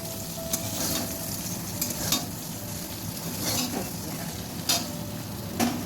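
Fried vegetables and spices for milk shukto sizzle steadily in hot oil in a pan, with occasional scraping stirs and light clinks of a utensil, no talking.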